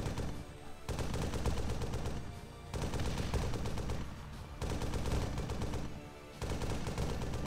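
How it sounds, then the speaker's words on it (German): Heavy gunfire from a large firefight in the military video game ARMA III, heard over the in-game radio: dense, continuous bursts of automatic fire and shots that keep rolling loudly, with brief dips between waves of shooting. "Ihr hört's im Funk, scheint eine ziemlich große Schießerei gerade losgebrochen zu sein."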